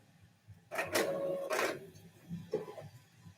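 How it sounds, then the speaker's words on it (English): A printer runs off a sublimation transfer page, giving two loud mechanical whirring passes close by, followed by a shorter clunk as the paper feeds. "that's printing"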